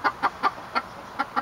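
Hens clucking in short, evenly spaced bursts, close and clear, six quick clucks with a short pause in the middle.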